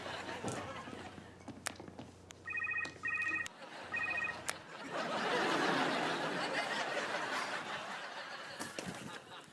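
A phone rings in short repeated electronic bursts, three rings in quick succession, followed by a rustling burst of noise and light chuckling.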